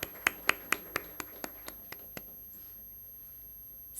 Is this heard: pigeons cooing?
no